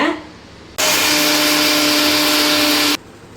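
A mixer grinder whirs loudly for about two seconds as it grinds tomatoes and spices into a paste, starting and stopping abruptly between short quiet moments.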